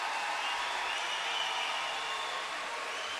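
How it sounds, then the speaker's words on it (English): A large crowd at the swimming finals of the 2019 Napoli Universiade keeps up a steady, dense roar of cheering and applause, heard from within the arena without a break. "Crowd roars because I think the Italian Tettamanzi has slipped into third place."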